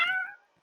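One short, clear cat meow from Livetopia, the Roblox game, bright and close, quickly fading to silence.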